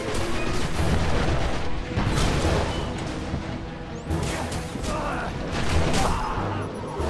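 A grenade explodes in the Destiny shooter game on a Venus mission, with loud bursts and booms amid ongoing combat noise, including sharp swells around the midpoint and near the end, with no speech.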